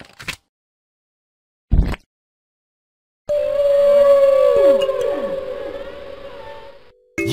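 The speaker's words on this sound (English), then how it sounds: "You found the whale!" A whale call from the Play-Doh Seek and Squish children's game: a long, loud, tonal moan with sweeping pitch glides that lasts several seconds, set between short bursts of other game sounds.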